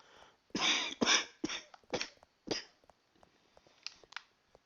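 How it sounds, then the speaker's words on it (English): A man coughs during a let's-play recording session, with several harsh bursts in a tight cluster, then a few fainter hacks and throat sounds trailing off, close to the microphone with quiet pauses between. "I do apologize for my coughing, but I cannot control it"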